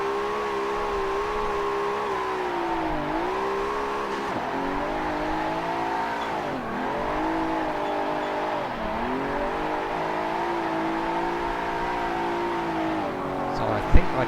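A race car's engine holds a steady, loud roar for the whole stretch, its pitch swooping up and down as the rear tyres, set to about 22 psi, are spun, with a sharp bang right at the end.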